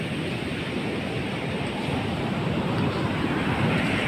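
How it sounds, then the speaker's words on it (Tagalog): Strong ocean waves after Typhoon Kristine, a loud, continuous roar of surf mixed with wind buffeting the microphone, with no break throughout. "Malalakas pa yung alon."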